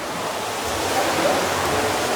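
A waterfall at a Las Vegas resort pours with a steady, broad rushing roar that stays loud and even throughout, with no talking heard.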